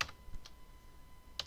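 A computer keyboard is tapped while entering a spreadsheet formula, a few crisp keystrokes spaced apart, close and fairly quiet against a faint steady hum.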